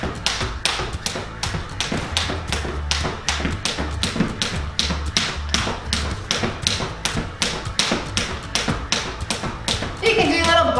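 A jump rope slaps the floor in a fast, steady rhythm of close taps through a workout, with background music throbbing underneath the whole time.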